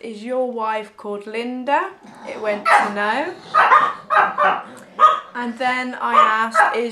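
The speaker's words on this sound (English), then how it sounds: "sorry about the dogs" Several dogs bark and yip repeatedly in the background of an indoor room, sharp overlapping barks recurring throughout while a person talks steadily over them.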